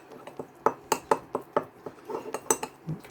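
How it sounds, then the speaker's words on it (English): A teaspoon clinks against a bowl while it stirs a thick paste, ringing in a steady run of sharp taps close by. "And I'll get a teaspoon and mix."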